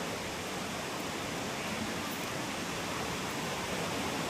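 Daranak Falls in the rainy season roars as a loud, unbroken wash of falling water, close and steady throughout with no voices.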